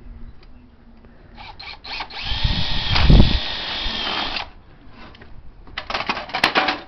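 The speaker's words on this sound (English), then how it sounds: "Oh, that's pretty easy to drill through." A power drill driving a couple of screws into a lawn chair, with a sustained whirring run in the middle and shorter bursts before and after, close and fairly loud.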